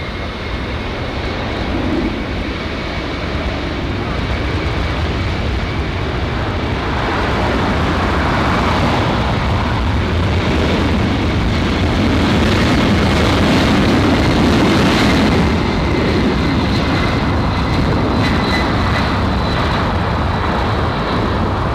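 Boeing 767 airliner at LAX airport, a loud, steady jet engine roar with broadband rush that swells slightly midway and holds for the whole stretch, with no voices over it.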